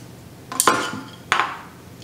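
Two sharp clattering knocks of chopsticks against a pot for instant ramen, close up, with a short scrape between them.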